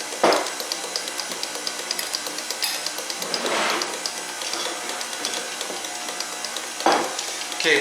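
A stand mixer beats butter cake batter for a Bundt cake, a steady close whirring with rhythmic scraping pulses, loud and continuous throughout with brief swells.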